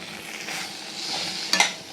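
Black chana masala with chili powder, garam masala and cumin is stirred and sautéed in a pan, giving a soft steady sizzle and a brief clink of a spoon against the pan near the end.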